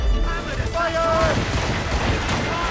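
Ship cannons fire in a naval battle in Assassin's Creed Rogue against French gunboats, a dense, rumbling barrage with heavy low booms that runs the whole stretch, mixed with shouted orders.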